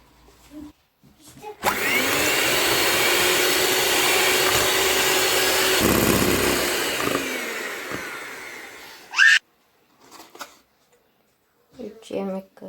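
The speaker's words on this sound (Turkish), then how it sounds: "3 adet yumurtaya yarım su bardağı şeker koyup çırpacağız." Electric mixer whisking three eggs with half a cup of sugar for a sponge cake base, a steady loud whirring drone lasting several seconds, with someone speaking before and after.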